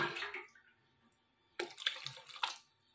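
Hot boiling water is poured off cooked banana flower, heard as a short splashing gush, a pause of near silence, then a second longer burst of splashing and trickling liquid.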